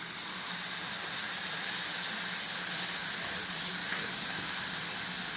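Milk poured into a hot pan of sautéed beetroot sets off a steady, loud hiss and sizzle of steam that carries on unbroken, with no voices.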